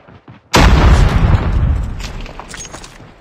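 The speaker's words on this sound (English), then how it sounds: "Watch out, grenade!" A grenade explodes in Call of Duty, one loud close boom that erupts suddenly after a quiet moment and then rumbles and decays slowly.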